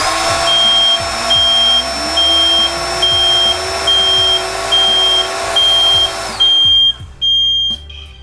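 An electronic kite noisemaker (sendaren) circuit under test sounds a loud, steady high-pitched electronic whine, its tone sliding upward partway through, with a periodic beeping pulse running alongside until it cuts out near the end.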